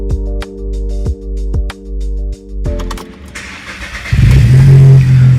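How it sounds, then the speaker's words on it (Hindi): A car engine cranks and catches after a jump start on an old, flat battery, with several short starter bursts giving way to a steady idle and then a louder rev, heard up close with no talk. "गाड़ी की बैटरी पुरानी होगी इसलिए बंद पड़ गई, अभी तो जंप स्टार्ट कर दिया"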